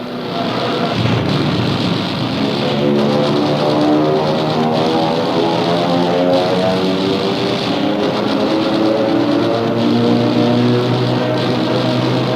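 World War II propeller fighter planes drone overhead in a loud, continuous engine roar with a pulsing, wavering hum that rises and falls slowly as the aircraft fly through, with no voices heard.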